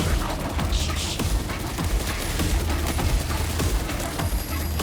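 A sentry gun fires continuously in the Space Marine 2 video game, a dense, loud, unbroken rattle of rapid gunfire amid busy battle noise.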